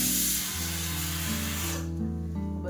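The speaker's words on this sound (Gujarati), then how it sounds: "તો આ છે ને જો આ સ્પ્રે છે ને એવું લગાવું છું." Kitchen cleaner sprayed onto kitchen tiles, a steady close hiss of spray lasting under two seconds, then cutting off to leave a low tonal background hum.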